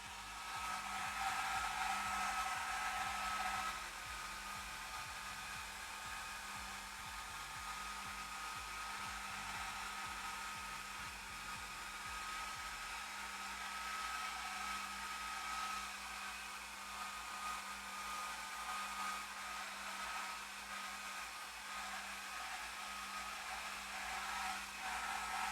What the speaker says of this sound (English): it's a hairdryer, because I have to dry these pages so that they stay.